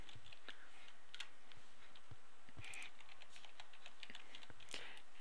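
Fingers type a user ID and password on a computer keyboard, a quiet, close series of irregular key clicks and taps spread across a few seconds with no talking.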